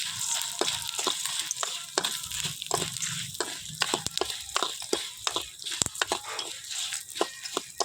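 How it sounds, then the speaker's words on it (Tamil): Dried red chillies and coriander seeds dry-roasting in a pan, a steady close crackle and hiss broken by frequent sharp scraping stirs and small pops throughout. "அதுக்கு காஞ்ச மிளகாய், மல்லி இதெல்லாம் வறுத்து எடுத்துக்கிறோம்."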